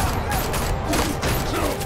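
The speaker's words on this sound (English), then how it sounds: "Why am I being shot at?" Gunfire in a Batman video game, a steady stream of crackling shots against a busy background of game noise and faint voices.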